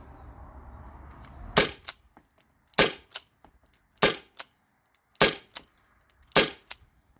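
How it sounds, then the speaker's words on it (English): Byrna SD launcher upgraded with a 12 gram Daisy CO2 cartridge fires five sharp, loud shots spaced about a second apart, each followed by faint mechanical clicks, over quiet background with no talking. "So I'm actually gonna shoot, reload, shoot, reload, shoot, reload, and do that probably 6 or 7 magazines."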